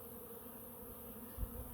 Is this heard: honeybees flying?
yes